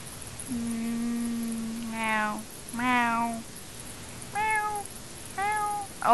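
A Minecraft cat meows repeatedly, close and clear, with a long drawn-out mew followed by several shorter rising meows and brief pauses between them.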